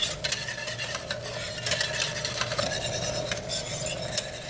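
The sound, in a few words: whisking salad dressing in a double boiler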